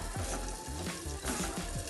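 Grated coconut roasting in a pan for Kerala-style varutharacha chicken curry, a soft steady dry sizzle with faint scraping stirs, quiet and continuous.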